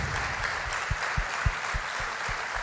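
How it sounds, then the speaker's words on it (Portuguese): Church congregation clapping for a pastor, steady dense applause throughout, with a few louder low thumps standing out near the front, no voices over it. "Eu queria que vocês dessem uma salva de palmas ao pastor Marcelo, à equipe pastoral do Amor e Cuidado"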